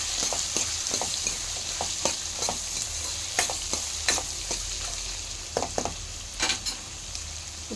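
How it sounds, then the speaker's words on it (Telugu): Beetroot is stirred and fried in a pan over a steady soft sizzle, with a spatula scraping and clicking in irregular strokes close by. "ఈ విధంగా బీట్రూట్ వేసినాక తిప్పుకోండి"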